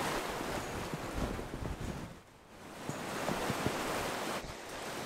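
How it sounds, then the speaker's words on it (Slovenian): Strong wind gusts roar across an outdoor microphone in a steady broadband rush, with a brief lull midway, as clouds move in fast before a summer rain in Australia. "Piha, dež pada, mokro bo vse."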